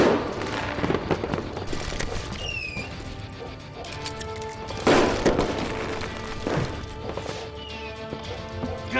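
Gunshots ring out in the Western shooter Call of Juarez: Gunslinger as a fusillade of sharp, cracking reports, irregular and loud, with heavier blasts around the middle and end, over a steady musical score.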